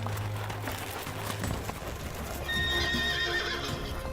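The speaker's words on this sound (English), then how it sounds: "Snow galloping is a special way for Jiaosu people to train their horses." Horses gallop through snow with a muffled rush of hooves and a neigh rising over steady wind-like noise, fairly close, in Xinjiang.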